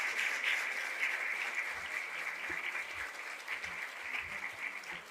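Steady applause from an audience at a government appointment-letter distribution ceremony, continuous and fairly dense clapping at moderate distance, slightly tapering toward the end, with no talk over it.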